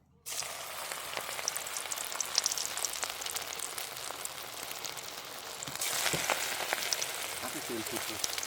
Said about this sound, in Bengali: পাঁপড়টা আমার ভাজা হয়ে গেল, এবার চিংড়ি মাছের সবটা ভেজে নেব।